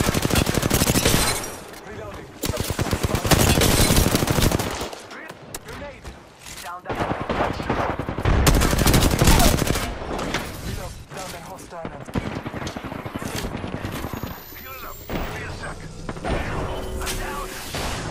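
Heavy gunfire from a video game squad battle: dense fusillades and machine-gun bursts crash loudly in long stretches, broken by short lulls, with voices talking over the shooting.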